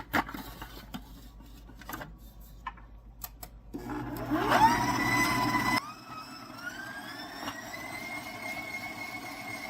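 An electric hand mixer blends cookie dough with eggs and vanilla and almond extract, its motor whirring loudly in a steady run of a few seconds that then drops to a lower, continuing hum.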